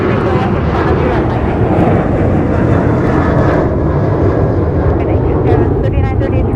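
A Frontier airliner takes off and climbs at Minneapolis–St. Paul airport, its engines making a loud, continuous broadband roar heard close by from start to finish.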